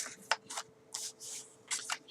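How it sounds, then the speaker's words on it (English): Paper edge being trimmed for a mini album, a handful of short, soft crisp cutting strokes in quick succession with quiet pauses between them. "So I'm just going to cut the edge off of that"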